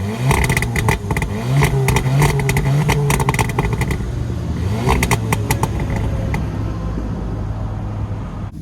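APR Stage 2 tuned VW Golf R MK7.5 with a manual gearbox, its engine revving loudly and continuously close by, with a steady rumbling drone and rising and falling throttle throughout, no talking.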